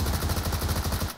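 A short, rapid burst from an MG3 machine gun in PUBG Mobile, a dozen or so evenly spaced loud shots fired in quick succession that then cut off abruptly.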